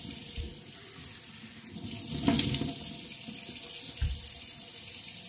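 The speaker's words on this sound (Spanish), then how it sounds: "Ay, el agua fresquita en los ojos." Cool water running from a sink tap and splashing as someone rinses their face, a steady loud stream with bursts of splashing, no speech.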